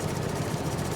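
A string trimmer engine revs in Farming Simulator 22, a steady buzzing drone with a low hum that holds fairly even throughout, close and continuous with no talk.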